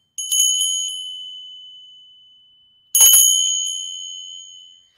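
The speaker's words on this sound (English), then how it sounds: "just take a second and just ring my bell" Two clear rings of a small bell, each with a bright metallic strike that slowly fades, the second coming about three seconds after the first.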